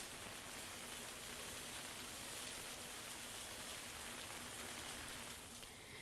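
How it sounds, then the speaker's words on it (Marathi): Rain falls steadily in Nanded in the early morning, a dense, even hiss that continues without a break, faint and distant in level. "नांदेडमध्ये पाऊस पहाटेपासूनच सुरू झालेला आहे."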